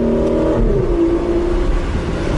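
A V12 engine in an Aston Martin revs hard and loud in first gear with exhaust valves open, its deep roar rising steadily in pitch as it accelerates.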